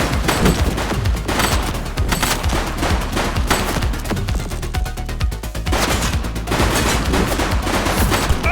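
Gunshots from The Precinct video game crackle in continuous rapid bursts of close, loud fire over a dense, busy backdrop, with no voices.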